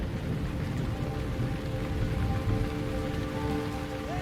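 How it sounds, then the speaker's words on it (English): A violent thunderstorm in Liuwa with heavy rain drumming steadily on surfaces and a low rumble of thunder underneath, dense and continuous throughout. "The storms in Liuwa are always violent and unsettling for us."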